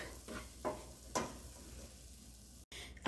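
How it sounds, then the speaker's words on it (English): Halwa masala toasting in a hot pan gives a steady close sizzle, broken by a few scraping stirs of a spoon across the pan, with no talk. "Our halwa masala has been toasting for about 2 minutes"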